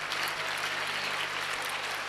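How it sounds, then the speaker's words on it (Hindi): Steady, dense applause from an audience at a Diwali morning celebration at Om Shanti Bhawan, Mount Abu, a continuous loud wash of clapping with a low hum underneath and no talk. "और एक बार जोर से ताली बजाएंगे।"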